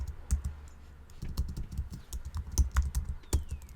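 Rapid bursts of keystrokes on a computer keyboard as a sheet name is typed, close and clear, with uneven clusters of clicky taps and short pauses between them.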